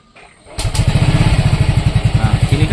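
Yamaha Fazzio scooter engine catching after a start and settling into a loud, close, rapidly pulsing putter with a regular beat throughout.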